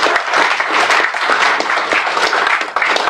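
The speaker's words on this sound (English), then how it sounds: "We can give a round of applause to" A round of applause for a former law firm partner at a community forum, steady dense clapping from a seated audience lasting a few seconds, close and fairly loud.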